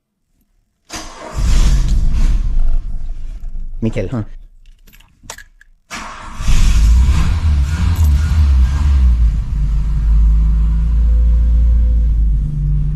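A car engine cranks and catches, then runs loudly with revving rumble; brief voices and clicks come before it fires up.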